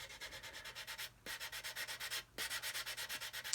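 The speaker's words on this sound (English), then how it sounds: "We could come in from the back like this and just gently sand away." Rhythmic back-and-forth sanding on the plastic of an Airfix 1/72 Vulcan model kit, close and steady, with two brief pauses between bursts of strokes.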